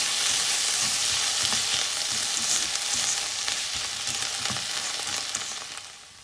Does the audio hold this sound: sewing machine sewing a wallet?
no